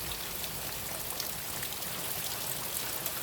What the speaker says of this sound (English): I guess she's enjoying the rainfall.